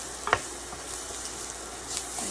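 Italian sausage and bell peppers sizzle steadily in a hot skillet, a constant frying hiss with a couple of scraping stirs near the start and a soft clatter later.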